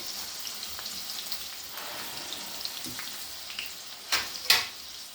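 Mustard seeds, cumin and urad dal frying in oil, a soft continuous hiss with faint scattered pops and two sharper crackles near the end, close and fairly quiet, no voices.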